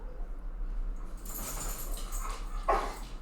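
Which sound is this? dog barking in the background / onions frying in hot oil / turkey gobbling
dog barking in the background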